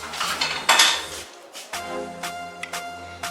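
Spoon clinking and scraping in a bowl as salt is mixed into yogurt, a series of close, bright metallic taps and scrapes with short pauses, no voices.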